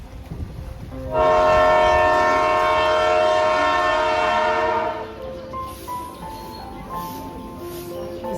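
A local train on the single line between Bangaon and Ranaghat sounds a long, loud, steady horn blast of about four seconds, then fades into a quieter rumble of the standing train.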